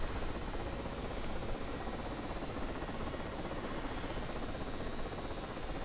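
A helicopter's steady, dense whirring roar in a flight simulator game over a 1944 Normandy map fills the scene continuously, fairly loud and unchanging, with no voices.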